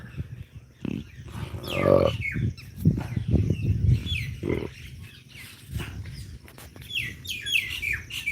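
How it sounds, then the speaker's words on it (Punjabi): An Asian koel sings in repeated short phrases outdoors, mixed with other chirps and a low rumble of murmuring voices nearby. "ਕੋਇਲ ਸੁਣਾਉਣ ਲੱਗ ਨੇ ਗੀਤ"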